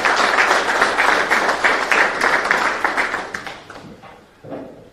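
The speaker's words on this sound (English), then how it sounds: "A big round of applause for Honorable Minister." A large audience claps in a broad, dense wash of applause for a government minister at a formal live event, holding steady for several seconds before thinning and fading out near the end.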